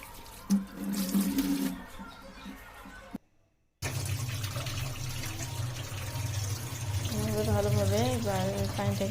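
Pieces of bitter gourd are washed in water, with steady splashing and sloshing close by. The sound briefly cuts to near silence, then the running water resumes with a humming undertone.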